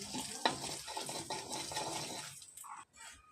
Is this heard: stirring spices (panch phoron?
yes